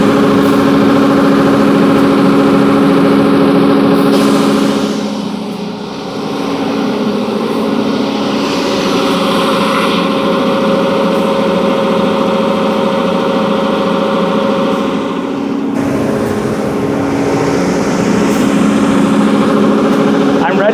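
Wide belt sander running steadily with its feeding wheel engaged, a loud continuous mechanical drone with a brief dip midway, voices talking faintly over the machine.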